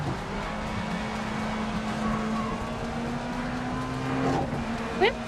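Race car engine held at full throttle in Grid Legends, a steady droning whine with a brief tire squeal near the end, while someone talks over it.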